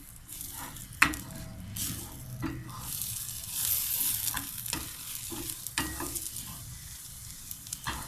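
Keto omelette egg mixture with coconut oil, salt and black pepper being stirred in a bowl or pan: close, irregular scraping strokes with a few sharper knocks over a light sizzling bed, no voices.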